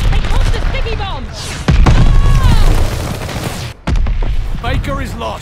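A sticky bomb blast in the Call of Duty: Vanguard video game lands as loud booming bursts amid gunfire and battle noise, with in-game voice lines spoken over the mix.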